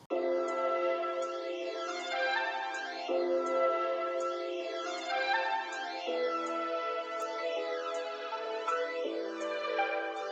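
A music sample processed with Cymatics Origin, EQ, reverb and phaser: sustained layered tones changing chord roughly every three seconds, with shimmering sweeping overtones, steady and loud throughout with no voices.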